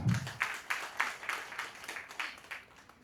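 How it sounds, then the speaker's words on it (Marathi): A sparse audience at a laughter club event claps in a loose rhythm of roughly a dozen distinct hand claps, faint and somewhat distant, fading slightly toward the end. "परत एकदा जोरदार टाळ्या"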